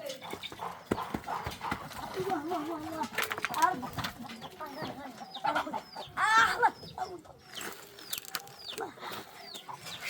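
Chickens cluck and squawk around a small farm amid hoof-like knocks and scuffling, with people talking in Arabic over the birds throughout.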